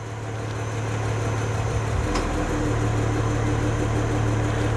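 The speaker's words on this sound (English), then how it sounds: "I have my car running, and this is kind of like down by the exhaust here." A car engine idling up close near the exhaust, a steady low rumble with a constant hum and one small click partway through.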